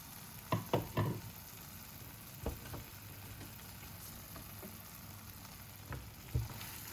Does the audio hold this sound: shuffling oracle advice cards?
no